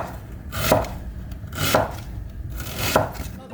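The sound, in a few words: chopping onions with a knife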